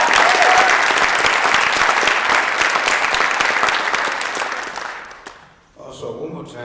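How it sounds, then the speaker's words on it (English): An audience at a Martin Luther King Jr. Day convocation gives Ms. Johnson a full, dense round of applause that holds steady, then fades and dies out near the end, followed by faint room sound and a voice. "Can we clap it up for Ms."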